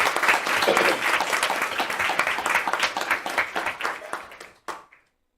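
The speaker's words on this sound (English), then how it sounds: "Let's give Tommy another round of applause" A school board meeting audience gives a round of applause, a dense wash of clapping that starts loud, slowly thins and tapers off, with a brief final burst before it stops.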